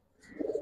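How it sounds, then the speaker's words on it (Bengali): A racer pigeon gives a single short, soft coo that swells near the end, close by but quiet. "ওভাবে অনেক সুন্দর কবুতর"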